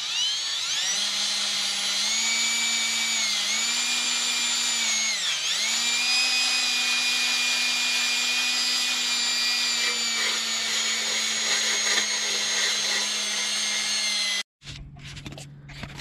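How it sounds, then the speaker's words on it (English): A power drill spins a wire brush against rusted AE86 bumper brackets, a steady high whine with shifting grinding pitch that runs for about fourteen seconds before stopping abruptly. "we're just gonna try to use the drill again and the wire brush and just try to get as much as we can"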